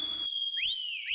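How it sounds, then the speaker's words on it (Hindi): A single whistle blown in a Hindi comedy scene, a steady shrill tone that bends and rises into a couple of upward chirps, clear and close. "सीटी।"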